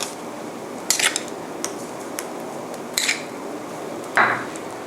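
Sticky rice topping with shrimp is stir-fried in a pan with sugar and salt. A spatula clinks and scrapes against the pan in a few separate strokes over a steady sizzling hiss.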